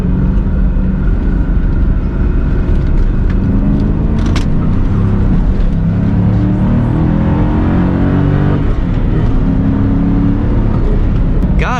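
A 1997 Ford Mustang Cobra SN95 dropping into second gear and accelerating hard, loud engine drone climbing and falling in pitch as revs build, heard from inside the car with a steady roar throughout.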